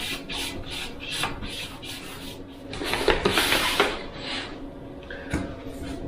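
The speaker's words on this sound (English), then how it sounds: "grab your Scotch-Brite again. and do some passes." A Scotch-Brite pad rubbed in repeated passes over wet orange oxide custom paint on a 32-inch LED TV, giving soft, close scratchy swipes that swell into a louder rasping burst midway.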